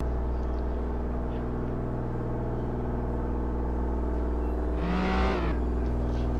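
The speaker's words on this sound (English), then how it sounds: "How many cars passing by?" Cars pass in the video game Flashing Lights: a steady, loud engine drone runs throughout, and one vehicle sweeps by with a rising whoosh near the end.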